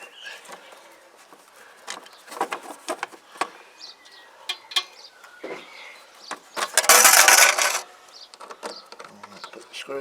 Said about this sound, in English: Put the screw back in.